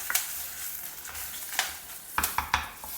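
Curry leaves and a pinch of turmeric powder hit hot oil with reddish-brown fried dals, giving a steady sizzle broken by several sharp crackles and spatters, with a little stirring, close up.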